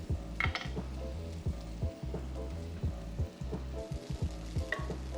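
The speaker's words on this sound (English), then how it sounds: "So let those onions sweat." Onions sweating in a frying pan for a steak and potato bowl, a steady close sizzle with repeated scraping stir strokes and a few light utensil knocks, no voices.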